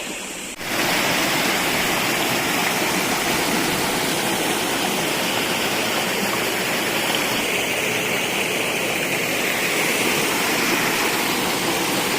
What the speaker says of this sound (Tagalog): Ang dami ng tubig dyan, no?